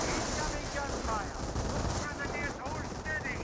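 Sustained MG42 machine-gun fire from a bunker in the World War II strategy game Company of Heroes, a dense, continuous rattle at steady loudness throughout with battle noise mixed in.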